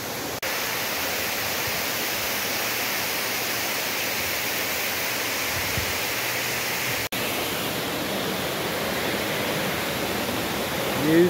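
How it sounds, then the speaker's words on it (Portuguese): Waterfall at Serra de Itaipava, Brazil: a steady, loud, broadband rush of falling water continues unbroken, with no voices. "E hoje a aventura é de cachoeira"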